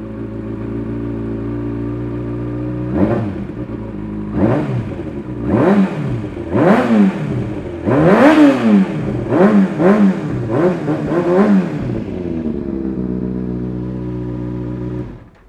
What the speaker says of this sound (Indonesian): pakai knalpot aftermarket dari merek Aero. Yang sekarang kita dengerin langsung aja suaranya.